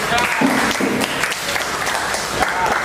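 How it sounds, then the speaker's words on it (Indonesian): A short burst of clapping from a class of students, scattered hands applauding indoors with some voices mixed in. "Boleh beri tepuk tangan buat kelompok kita."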